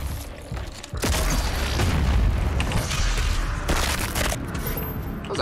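Rapid heavy gunfire and booming blasts from the first-person shooter DOOM Eternal, loud and dense throughout, with a sharp burst of shots kicking in after a brief quieter moment at the start.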